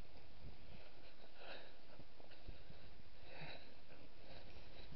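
A well-behaved dog off its lead sniffs in a few short, close bursts, its snuffling breaths repeating over quiet outdoor background with no talk.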